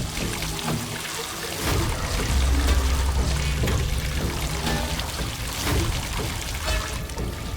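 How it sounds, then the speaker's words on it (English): Water pours into a car in a steady, rushing stream, splashing and gurgling continuously at close range with no voices. "Water starts pouring into the car quickly like an invisible monster."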